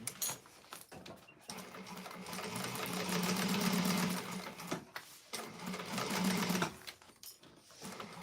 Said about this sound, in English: now what this is doing is it's basting those 3 layers together.